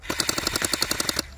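Rapid burst of gunfire, about a dozen evenly spaced loud shots in quick succession, like an automatic weapon, stopping abruptly after a second or so with no talk.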